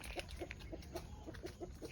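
Free-range chickens in their fenced pen cluck in a steady, rhythmic series of short calls, faint and somewhat distant over a constant outdoor background hiss, with no one speaking.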